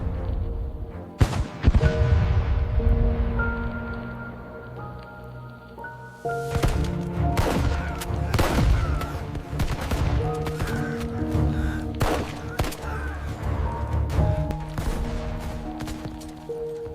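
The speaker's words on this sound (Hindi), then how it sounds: "Move up! Keep firing! Incoming! Get down!" Gunfire rattles in repeated sharp bursts and single shots amid a movie battle scene, layered over sustained musical tones and a low rumble.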